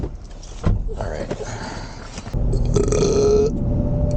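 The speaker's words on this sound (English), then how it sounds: "Ugh, I got the tea burps." A loud, close burp after drinking tea rumbles out in two swells, the second longer and stronger, on a rural street with outdoor background noise.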